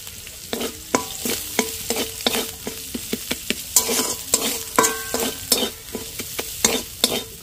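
Vegetables sizzle steadily in a hot pan with a little turmeric while a utensil scrapes and stirs in quick, irregular strokes, close and fairly loud.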